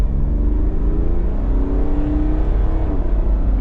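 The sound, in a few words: INEOS Grenadier accelerating up to 60 mph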